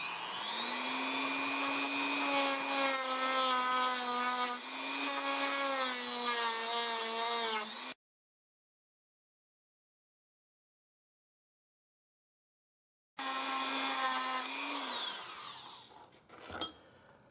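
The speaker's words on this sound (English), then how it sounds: "So I'm just going to use my Dremel." A Dremel rotary tool cuts through a Yamaha YL1 motorcycle chain link plate, a loud sustained whine with shifting pitch for about eight seconds, then silence, then a shorter burst of cutting that trails off.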